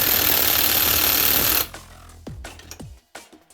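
A Ryobi One+ HP impact wrench spins on a bolt with damaged threads, giving a loud continuous rattling hammer for about a second and a half before cutting off, followed by a few clunks and handling knocks.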